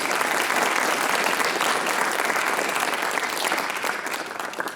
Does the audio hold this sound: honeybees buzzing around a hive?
no